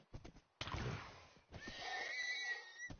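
A horse in Minecraft neighs loudly and close, a drawn-out whinny following a few soft hoof clip-clops, with no talking over it.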